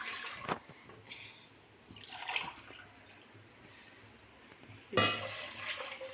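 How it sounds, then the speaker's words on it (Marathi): Two glasses of water poured from a glass into a pot on a lit gas stove while cooking with rice flour; a few short splashing bursts stand out against a quiet kitchen background. "त्याच्यासाठी मी इथं बरोबर 2 ग्लास पाणी घेते"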